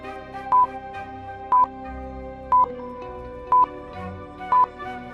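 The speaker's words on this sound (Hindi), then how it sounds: "मेहुल फोन नंबर के बटन प्रेस करता है" Phone number keypad buttons pressed one at a time, five even, clear beeps spaced about a second apart over a quiet background.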